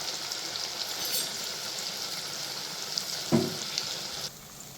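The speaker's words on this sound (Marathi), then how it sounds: "मी आता त्या वड्या सगळ्या एक एक करून तळून घेते तेल आपलं एकदम कडकडीत गरम पाहिजे" Colocasia rolls (alu vadi) frying one by one in very hot oil, a steady close sizzle with a brief louder burst of bubbling near the end before it drops away.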